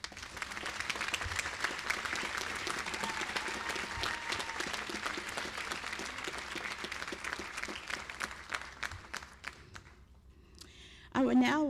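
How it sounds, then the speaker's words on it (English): A seated assembly at a university convocation breaks into sustained, dense applause that carries on for about ten seconds, then thins out before a voice starts speaking at the end. "applause"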